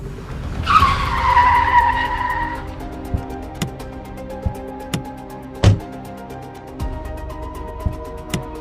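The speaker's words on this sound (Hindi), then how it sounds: "गाड़ी यहीं रोक दो।" Car tyres screech in a sharp skid to a stop, one loud squeal lasting about two seconds, then a quiet stretch broken by scattered thumps and clicks, all with no voices.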